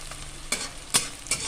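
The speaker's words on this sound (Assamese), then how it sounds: "পিঁয়াজ ভাজি আছোঁ।" Onions sizzle softly in a small amount of oil, with three distinct spatula scrapes marking the stirring, close and without talk.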